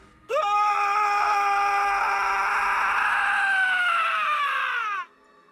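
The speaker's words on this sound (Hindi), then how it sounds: "सागर चीख पड़ा।" A man screams in a horror story, one long loud sustained shriek lasting several seconds that wavers slightly before cutting off abruptly.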